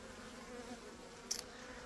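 Honeybees buzz faintly around an opened hive frame during a spring apiary inspection, a steady low hum with a brief louder burst of wingbeats partway through, no talking.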